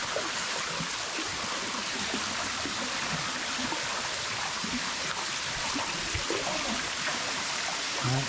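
Steady rushing water of a jungle waterfall on Moyo Island, Indonesia, pours continuously, a dense full roar with no pauses and no voices.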